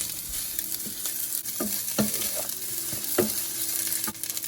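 Fried rice being stirred and tossed in a hot pan, a steady sizzle with repeated scraping strokes of the spatula every second or so, close and fairly loud, no voices.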